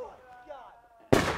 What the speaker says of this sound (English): So, we're lighting off fireworks.